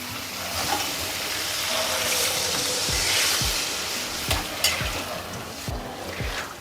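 Curry powder stirred into hot oil in a kadai for a South Indian brinjal kuzhambu: a continuous sizzle and hiss broken by repeated scraping strokes of the spoon, close and clear.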